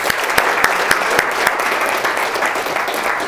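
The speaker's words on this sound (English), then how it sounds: "Give yourselves a round of applause." An audience applauding, a sustained burst of clapping from many hands with a few sharper claps standing out, loud and close throughout.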